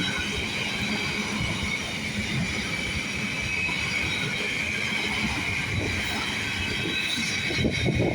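A Class 755 passenger train passes through Stowmarket station on a service from Ipswich, a steady close rumble of wheels on rail with a faint squeal building near the end, no voices.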